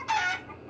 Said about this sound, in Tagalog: pasensya na kayo sa mga ingay ng mga manok